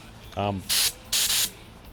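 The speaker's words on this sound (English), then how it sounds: "I think these are called HVLP spray guns." An HVLP spray paint gun spraying, used for painting a square drop camper: two loud hissing bursts of about a fifth of a second each, preceded by a short voiced sound.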